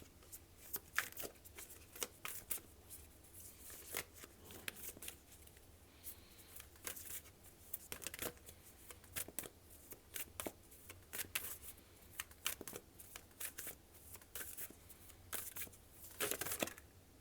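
An oracle card deck, the Yogic Path deck, being shuffled by hand, with soft, close riffles and taps repeating in irregular bursts at a quiet level and no talking over them.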